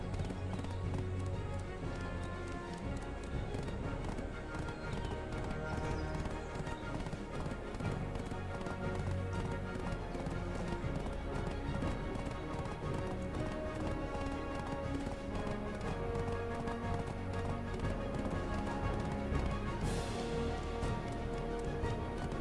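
Donkey hooves clip-clop steadily through most of the stretch in Black Desert Online, a continuous moderately loud trotting rhythm over a dense game soundtrack, with no talking.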